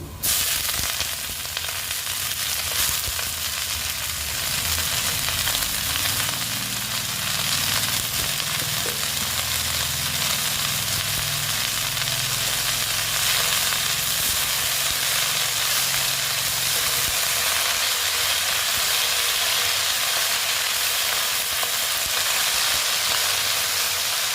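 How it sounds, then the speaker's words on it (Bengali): Red amaranth greens frying in a pan with browned onions, a steady broadband sizzle throughout with stirring scrapes, close and continuous, with no talking. "এবার আমি শাক দিয়ে দিচ্ছি"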